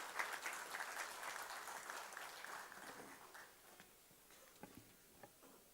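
An audience at a planning convention applauds to welcome a speaker to the dais. The clapping is dense and steady at first, then thins and fades to a few scattered claps.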